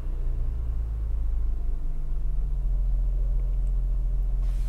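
A 2001 Honda Accord EX V6 engine, just repaired for a misfire, idles with a steady low rumble throughout, no voices, the deep throb holding constant from start to finish.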